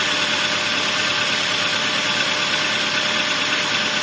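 A Toyota Avanza engine idles on a cold morning with a noisy ticking, knocking rattle linked to earlier overheating, a steady close mechanical clatter and hum running unchanged throughout with no voices.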